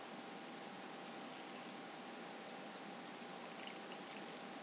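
Enema solution is poured into a bag, a soft, steady hiss of liquid that runs without a break, quiet and close, with no speech.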